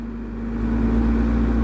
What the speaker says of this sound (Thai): เร่งเครื่องหน่อย